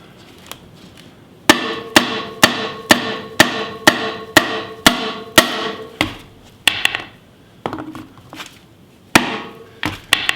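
Metal hammer blows strike the seized axle of a Honda CR125 motorcycle, a steady run of about a dozen sharp, ringing impacts roughly every half second, then a few scattered, quieter taps after a short pause.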